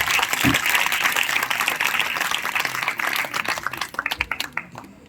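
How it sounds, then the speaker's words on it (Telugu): Audience applause at a church gathering honouring a priest, a dense steady wash of clapping from many hands that thins into scattered individual claps near the end. "మరొకసారి గట్టిగా చప్పట్లో పెడతాం"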